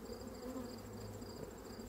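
Honeybees buzzing steadily inside a hive during an inspection of a paired nucleus colony, a close, continuous drone of many wings with no voices.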